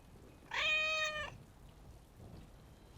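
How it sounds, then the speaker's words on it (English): A single cat meow in the video game Dragon Age Awakening, one clear drawn-out mew of about a second, moderately soft over a low background hiss and patter. "There's a cat there."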